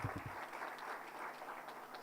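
A short burst of continuous audience applause in an auditorium at a plenary session, even and slightly distant with no speech.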